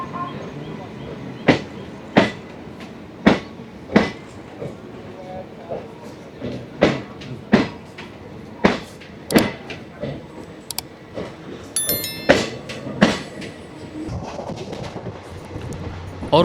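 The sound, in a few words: Salasar Express train running at high speed, sleeper class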